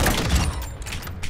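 Gunfire in a first-person shooter video game kill cam replay, dense rapid shots with booming low end packed into a loud, continuous burst.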